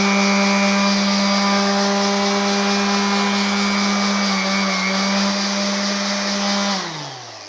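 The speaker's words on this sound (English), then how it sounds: "when you turn on the sander and you have it on a higher variable speed" A Milwaukee M18 18-volt cordless 5-inch random orbit sander runs loud and steady at high speed with a sustained whine, then winds down sharply in the final half second.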